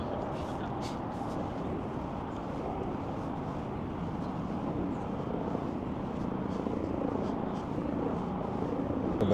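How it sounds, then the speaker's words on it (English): A continuous low rumble and chop of a low-flying helicopter drones steadily, fairly distant and unchanging throughout. "I hear the helicopter, but I didn't see it."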